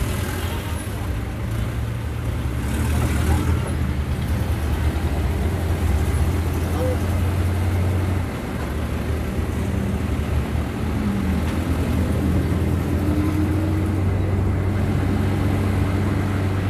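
Road traffic in a delivery run: a constant low engine drone and roadway hum from a truck cab, with a hiss of air brakes and faint voices talking underneath.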